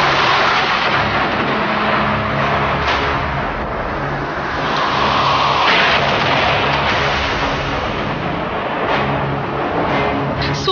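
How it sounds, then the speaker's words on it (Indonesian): Thunder rumbles in a deep, continuous roll with swelling bursts, loud and unbroken for the whole stretch, with no voices. "Suara petir yang menggelegar mungkin dapat membuat orang takut mendengar dan melihatnya secara langsung."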